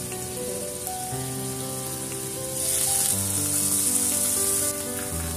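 Chopped onion, green chili and capsicum frying in a pan for an omelette: a continuous, fairly loud sizzling hiss that swells in the middle, with a steady tonal hum underneath.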